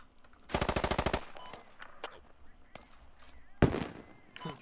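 Video game Squad: a rapid burst of automatic gunfire rattles off close by, followed by scattered single shots and a sharp loud crack, with faint background game sounds between.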